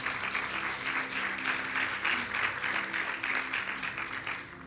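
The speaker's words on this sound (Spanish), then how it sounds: "Dale un fuerte aplauso al Rey de Reyes." Church congregation applauding steadily throughout, a dense sustained wash of many hands clapping at a Spanish-language worship service, with faint voices underneath.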